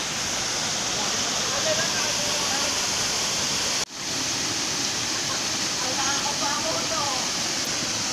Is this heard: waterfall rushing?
yes